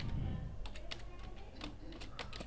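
Keystrokes on a computer keyboard as C# code is typed, a quiet, irregular run of light clicks spread across a couple of seconds over a low room hum, with no talking.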